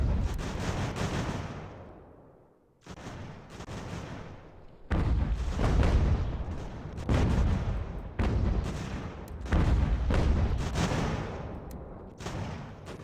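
Musket volleys and artillery in Ultimate General: American Revolution, an eighteenth-century battle game: repeated crackling fusillades and booming cannon shots in irregular bursts, loud and close, with a brief lull early on.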